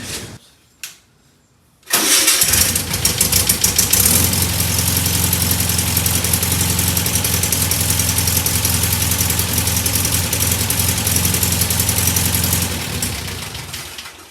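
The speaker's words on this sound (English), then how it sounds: "A little rough. The carburetor probably needs to be cleaned and tuned." A Volkswagen Beetle engine catches on its first start in over 25 years and settles into a loud, steady but rough idle with a faint uneven knock. A fouled carburetor needs cleaning and tuning.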